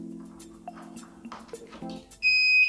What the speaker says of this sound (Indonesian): pertama akan terjadi bunyi bip seperti ini